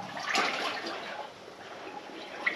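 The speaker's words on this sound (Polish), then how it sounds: "Musimy pokonać trochę głębszą wodę na początku." Someone wades through shallow water in a former fluorite mine adit, producing irregular sloshing and splashing that surges early, eases off, then gives a brief sharp splash near the end, with no talking.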